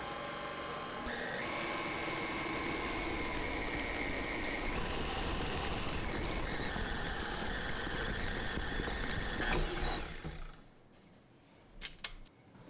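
A stand mixer running steadily at medium speed kneading cinnamon roll dough, a continuous motor whir with shifting tonal whines for about ten seconds before stopping, followed by a few faint clicks.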